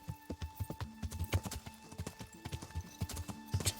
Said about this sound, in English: So let the horse stamina regenerate a bit, not galloping.